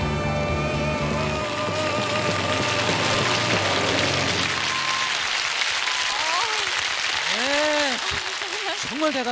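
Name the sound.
studio audience cheering and applauding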